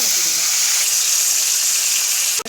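Fish frying in hot oil in a kadai on a gas stove, giving a steady, loud, dense sizzle that holds evenly throughout and cuts off abruptly at the end.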